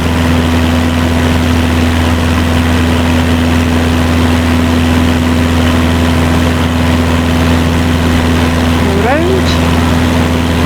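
A Cessna 172 Skyhawk's single propeller engine drones steadily in Microsoft Flight Simulator 2024, a constant loud hum with a low tonal buzz that never changes, with a faint brief chirp near the end.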